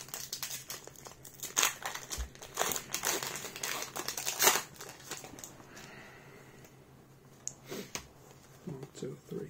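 A Pokémon Cosmic Eclipse booster pack wrapper is torn open with loud, close, crackling crinkles in bursts. The crinkling fades into quieter rustles and a few clicks toward the end.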